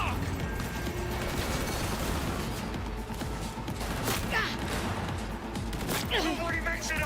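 Dense video-game gunfire rattles on without pause, bursts and crashes stacked over a loud, busy battle din.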